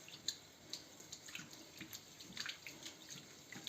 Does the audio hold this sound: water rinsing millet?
yes